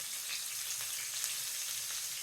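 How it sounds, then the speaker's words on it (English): Fish fingers sizzle and crackle in hot oil, a soft continuous frying hiss with small pops, heard up close. "these are frying beautifully"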